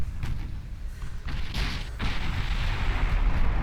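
Torpedo striking a warship in Ultimate Admiral Dreadnoughts, a few dull booms and thuds over a low rumbling background, the last blast swelling into a sustained roar, with no talk.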